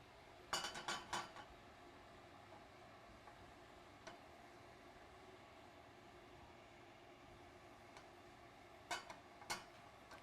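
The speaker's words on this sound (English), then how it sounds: "And I'll whisk it in." A whisk strikes a pan as flour is worked into melted butter: short bursts of quick metallic clicks at the start and again near the end, faint and close, with quiet stretches between.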